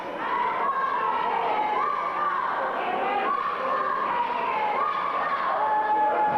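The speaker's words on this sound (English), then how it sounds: "There's some of the crowd yelling, "Let's go, Damien, let's go."" Wrestling crowd at a CWA show yelling and cheering steadily, a dense wash of voices with rhythmic chant-like rises, loud and continuous throughout.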